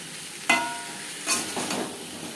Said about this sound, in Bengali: মশলার কাঁচা গন্ধ যাওয়া পর্যন্ত নাড়াচাড়া করে নেব